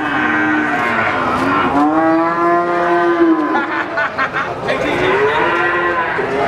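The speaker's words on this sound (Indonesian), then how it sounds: "Ini masih di sapi bibitan atau sapi perdetan." Calves and breeding cattle at Pasar Paing Winong livestock market let out long, loud, drawn-out moos, one after another, close by, with market bustle faintly behind.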